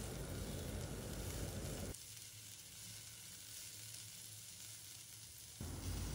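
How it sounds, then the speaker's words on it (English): Red and yellow bell peppers sizzle in a pan over a medium flame, a steady close frying hiss that dips quieter in the middle while being stirred, then rises again, with no talking. "And now on medium flame we will stir them well for a few seconds."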